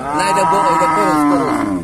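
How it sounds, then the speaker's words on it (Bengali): A crossbreed dairy cow at a cattle market lets out one loud, close, drawn-out moo lasting nearly two seconds. "এই গরুটা আপনারা দেখতে পাচ্ছেন"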